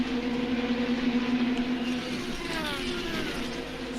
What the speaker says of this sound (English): It's just brilliant to hear and listen to these engines